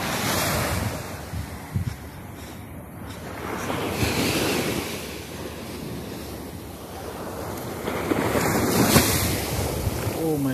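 Night surf rolling onto a beach in Dubai, steady wash of breaking waves with gusts of wind buffeting the microphone, swelling louder toward the end, with faint voices in the background.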